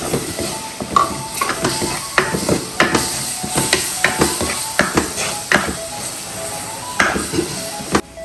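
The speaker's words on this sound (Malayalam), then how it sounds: "അതിലേക്ക് തക്കാളി മിക്സിയിൽ അടിച്ചത് ഒഴിക്കുക" Blended tomato goes into a sizzling pan of spiced oil for mackerel curry; a close, steady sizzle runs under a quick series of sharp stirring and scraping strokes against the pan, with no voices.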